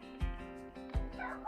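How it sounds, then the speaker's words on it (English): A terrier next door gives two sharp barks about a second apart, moderately close, with a little background noise in between. "that's Muttley next door, if you can hear him barking"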